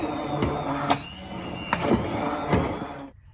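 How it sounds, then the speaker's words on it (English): A stick mixer hums and whirs steadily through cooked pumpkin soup, a close, buzzing motor with periodic knocks against the pot, then cuts off abruptly at the end. "we can give it a blitz with our stick mixer and turn it into nice, smooth soup"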